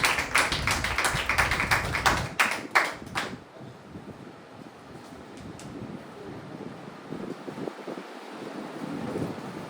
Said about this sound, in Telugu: అందరూ కలిసి చప్పట్లు కొడుతూ దైవజనులను ఆహ్వానిద్దాం